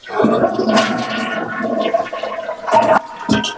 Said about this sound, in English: this toilet tank, it will take forever to refill